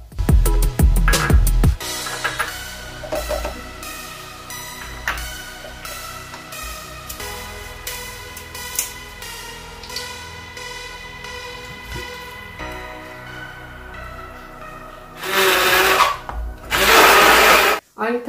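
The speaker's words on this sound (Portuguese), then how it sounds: "Vou colocar tudo aqui nesse copo porque eu vou bater com o mixer" A hand-held stick blender purees bananas in a cup, its loud whirring motor coming in a burst at the start and two more near the end, with quieter kitchen sounds and a voice talking in between.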